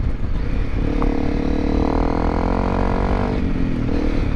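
A Honda CRF250L Rally motorcycle rides offroad, its single-cylinder engine droning steadily and rising and falling in revs under loud wind and rumble, heard from the rider's position.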